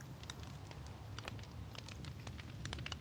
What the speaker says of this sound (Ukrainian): Але тут йде дощ.